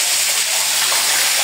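River water gushes out and fills a channel beneath a rock, a loud, steady broadband rush without pause and with no voices.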